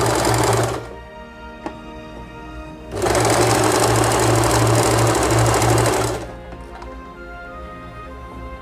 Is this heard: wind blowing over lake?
no